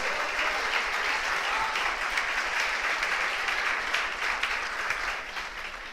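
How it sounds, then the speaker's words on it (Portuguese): A church congregation applauds at a service, a dense, continuous wash of many hands clapping that holds steady and tapers slightly at the end, with no voices standing out. "você pode aplaudir ao Senhor."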